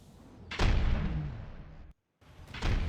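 Torpedo explosions in the naval game From The Depths: a heavy boom with a long rumbling tail, a brief silence, then another deep blast starting, no talking.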